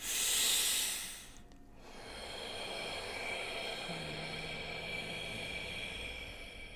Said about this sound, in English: work with just directing your breath into the heart